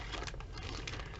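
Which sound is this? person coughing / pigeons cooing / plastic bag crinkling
plastic bag crinkling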